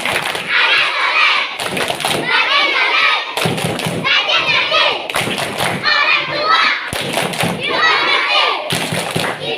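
Children chant the rhythmic Malay 'tepuk anak soleh' clapping song during an Isra' Mi'raj religious talk, with sharp group claps in steady bursts between their lively voices.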